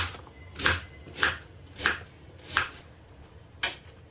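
Five sharp knife strikes chop onions into large pieces on a cutting board, landing at a steady, unhurried pace, close and clear with no talking.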